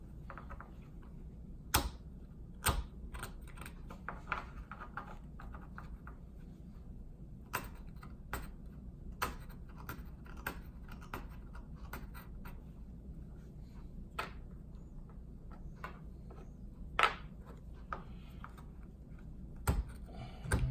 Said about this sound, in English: I'm basically just drawing it, the blade over it